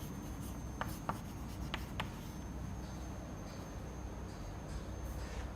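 An equation is written by hand during a fluid mechanics lecture on Stokes flow: a few faint, quick scratching strokes early on over a steady room hum, then the room stays quiet.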